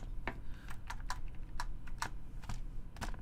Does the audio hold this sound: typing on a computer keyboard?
yes